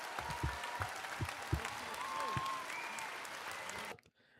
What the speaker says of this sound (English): A grand applause to America.